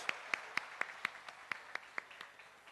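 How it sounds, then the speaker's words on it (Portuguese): A small audience claps for the base representatives at an inauguration ceremony, roughly ten evenly spaced sharp claps ringing out over a faint room background, with no talking. "Uma salva de palmas para os representantes de base"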